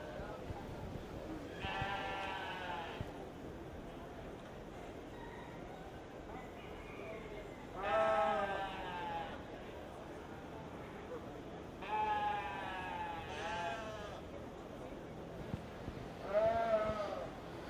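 Purebred Hampshire ewe bleating several times in a show ring at a 4-H/FFA sheep show, repeated loud calls spaced a few seconds apart over steady arena background noise.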